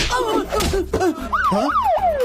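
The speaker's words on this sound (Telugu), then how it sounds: "ఇదేంట్రా సైరన్?" A vehicle siren in a comedy film scene, loud and close, wailing in rising and falling sweeps that repeat through the whole moment.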